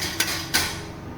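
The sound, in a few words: hammering a cap tight with a tool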